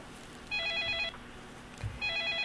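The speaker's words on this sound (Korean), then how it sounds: "전화 또 받아보도록 할게요" A telephone rings for an incoming call to a live stock-counselling broadcast, two electronic trilling rings separated by a short pause, clear and moderately loud with no talk over them.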